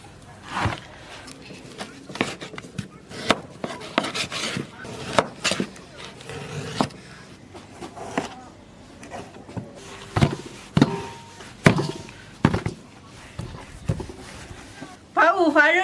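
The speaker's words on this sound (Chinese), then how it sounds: "把五花肉切成大方块" A cleaver chops pork belly into large cubes on a board, a string of sharp, fairly close knocks in an uneven rhythm, with short pauses between bursts and a voice briefly speaking near the end.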